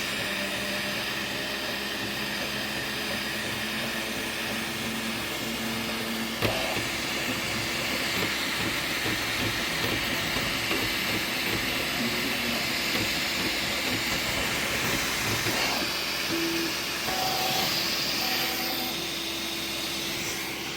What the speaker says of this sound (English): We're going to see it print a little bit right here.